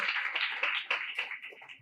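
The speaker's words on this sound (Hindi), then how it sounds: "क्राइस्ट होलीनेस चर्च की ये जिंदा दिल कलीसिया जोरदार तालियां बजाते हुए आपको वेलकम कहती है" A lively church congregation at Christ Holiness Church clapping in welcome, a dense run of brisk hand claps that stays fairly loud for under two seconds.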